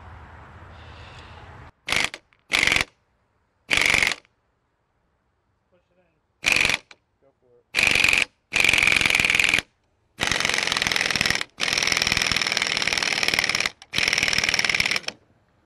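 Tools working on the lower ball joint of a 2014-2016 Chevrolet Silverado or GMC Sierra, heard as a string of sharp, loud mechanical bursts of varying length. Ratcheting and pressing noises come in separate bursts with silent gaps between them.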